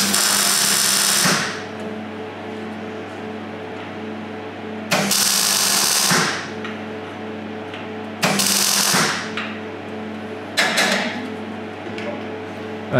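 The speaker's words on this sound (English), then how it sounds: "Tacking it into the frame." Tack welds fix a battery tray into the frame of a Super 7 Locost kit car: four separate bursts of harsh crackling buzz, each lasting a second or two, over a steady electrical hum in a workshop.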